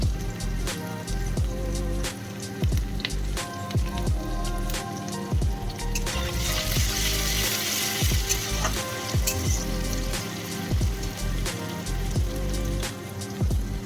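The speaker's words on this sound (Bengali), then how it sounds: "পেঁয়াজটা একটু ভাজা ভাজা হয়েছে" Sliced onions frying in oil in a pan, a dense, steady crackling sizzle with frequent sharp spits and clicks, loud and close, over a faint tonal background.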